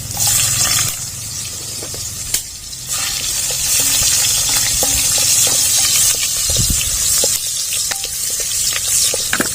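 Onions sautéing with ginger and garlic in a hot pan for a curry: a steady, close sizzle with occasional scraping from stirring, and no talking.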